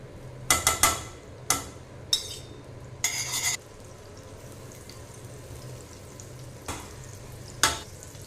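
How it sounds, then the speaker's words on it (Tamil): Butter melts and sizzles in a pan for white pasta, a soft steady fizz under sharp scrapes and clinks of a utensil against the pan. "நம்மளுக்கு வெண்ணெய் வந்து நல்லா உருகிடுச்சுங்க"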